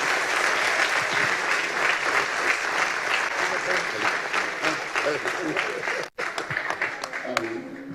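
Congregation at a church service claps in sustained, loud applause to welcome the pastor, with a brief break near the end before scattered claps continue.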